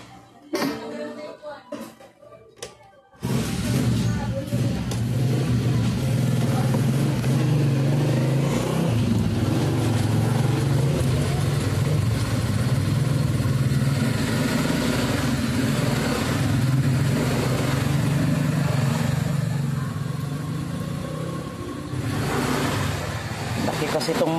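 A large motorcycle on a ride has a continuous, loud engine drone with wind rush, rising and falling slightly with throttle, after a brief quieter start. A voice talks at times over it.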